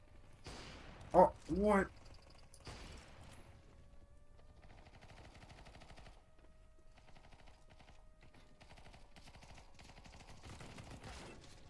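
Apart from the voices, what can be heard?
gunfire in a first-person shooter video game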